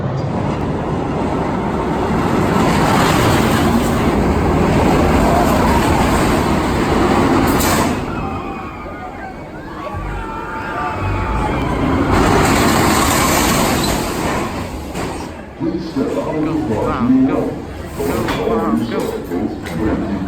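Montezooma's Revenge, a flywheel-launched roller coaster, roars along its track with loud rumbling and clattering wheels, a brief lull, then renewed rushing noise and rattling, with riders' voices mixed in.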